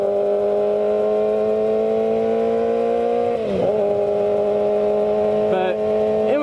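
Inside a moving car on the highway, a steady engine drone holds a constant pitch with a brief dip and shift midway, and a voice speaks over it.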